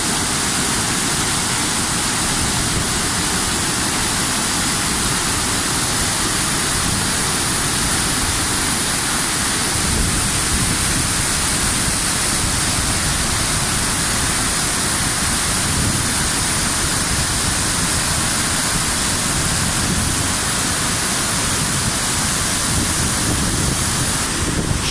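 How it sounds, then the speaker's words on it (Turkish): Çündüre waterfall in Antalya pours into the Alara stream, a loud, constant broadband roar of falling water heard up close with no voices. "Şelale hemen dibinde akan Alara çayına dökülüyor."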